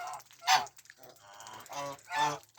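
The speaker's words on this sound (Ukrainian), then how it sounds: "Жак, як завжди харякає, гагакає і кусає." A farmyard goose honks loudly in several harsh bursts, close by, in a yard shared with chickens and ducks.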